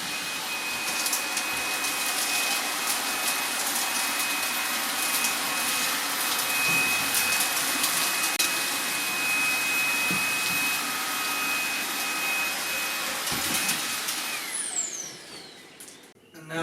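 A Makita cordless stick vacuum, compared between the 40V CL001G and 18V models, runs with a steady loud whine and airflow hiss before switching off and spinning down at the end.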